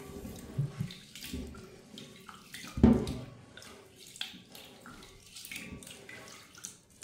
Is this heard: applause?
no